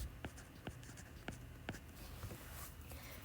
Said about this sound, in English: Let's write down our formula.